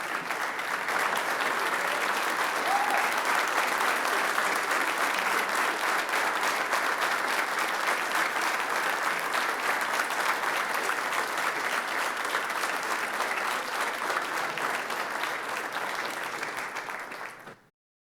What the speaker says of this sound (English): give Robbie a round of applause